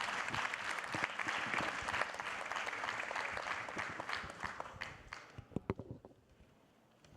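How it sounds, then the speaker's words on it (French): Audience applause for a speaker at a French regulatory-news conference, steady dense clapping that thins toward the end into a few scattered louder claps. "Vous pouvez l'applaudir parce que c'est encore une belle performance"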